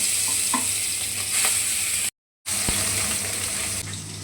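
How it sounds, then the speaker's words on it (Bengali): Steady sizzling of fish frying in hot oil, with a brief gap and a few clinks and stirring sounds. "মাছগুলো একে একে ভেজে নেব"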